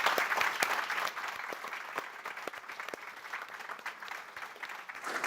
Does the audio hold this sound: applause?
yes